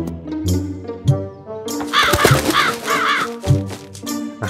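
Cartoonish crows caw in a short series of loud, harsh calls over a musical game soundtrack in Lost in Play, the bird cries rising clearly above the background score.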